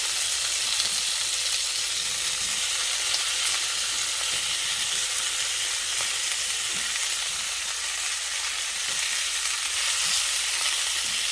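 Celery and onions sizzle loudly in a pot while a pot roast is prepared. A dense, steady frying hiss runs unbroken and close up, with no speech.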